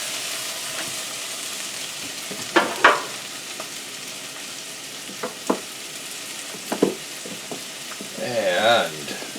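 Garlic sautéing in a pan for almond chicken, a steady soft sizzle with a few sharp clinks of a utensil against the pan and a brief voice near the end.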